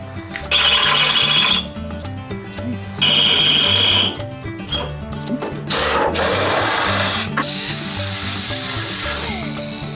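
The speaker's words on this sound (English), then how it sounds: "we'll drill this out and then we'll get this drilled out" A power drill whirs in loud bursts, revving up and down repeatedly as it bores through a metal lock on a 1948 GMC pickup truck, with short pauses between runs and no talking.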